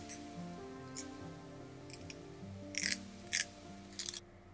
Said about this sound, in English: that sounds like tape getting peeled